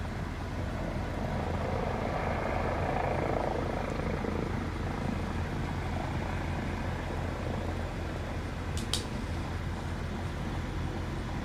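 A police helicopter hovers overhead, its rotor thrumming in a steady, continuous drone that stays loud and even throughout, with a brief faint chirp near the end and no talking.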